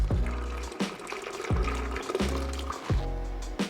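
Liquid from a homebrewed imperial stout gurgles and splashes in repeated glugging bursts, about four surges with short pauses between, close and moderately loud.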